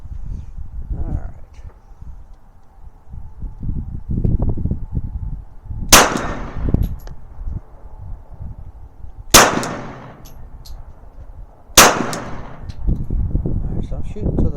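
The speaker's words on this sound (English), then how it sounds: "So I'm shooting to the left a little bit." A Glock 21 Gen4 .45 ACP pistol fires three loud, sharp gunshots at a range, spaced several seconds apart. Each shot is followed by a short ringing decay, with rustling and handling noise between them.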